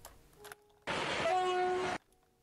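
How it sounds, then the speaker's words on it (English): A train horn from the Traincraft mod in Minecraft blares for about a second, a loud steady tonal blast starting and stopping abruptly, with faint quieter sounds before and after. "This train is the only one that I've heard that horn on"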